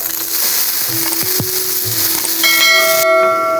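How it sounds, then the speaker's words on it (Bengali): Thinly cut potatoes fry in hot oil with black cumin seeds for a bottle gourd and poppy seed dish, giving a steady, loud, close sizzle; a clear ringing tone joins in toward the end. "সরু সরু করে কেটে রাখা আলুগুলো এখন আমি তেলে দিয়ে দেবো।"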